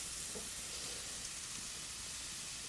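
Meat fries in a pot over the heat and is stirred now and then, giving a steady, faint sizzle and hiss that lasts throughout with no voices.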